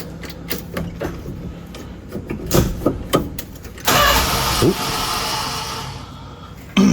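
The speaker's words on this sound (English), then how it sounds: "Well, it doesn't crank in park. Oh, now it does." A 1978 Dodge D150 pickup that sat for 20 years turns over with a run of rhythmic starter clicks and cranking, then a broad, loud roar of the old engine catching before it cuts off.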